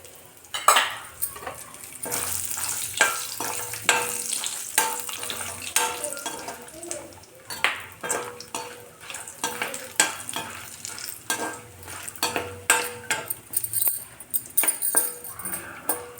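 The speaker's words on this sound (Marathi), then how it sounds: "यामध्ये आपण आता आपले अक्रोड पण भाजून घेऊ." Walnuts roasting in a pan for fenugreek laddoos, stirred continuously: dense rattling, scraping and clattering of nuts and spoon against the metal pan over a light sizzle, close and busy throughout, with no talking.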